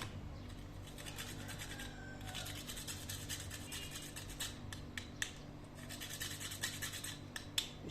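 Whole nutmeg rasps against a grater over seasoned chicken for oven roasting, a faint, close scratching that rises and falls in short strokes with a few sharper ticks, and no one speaks.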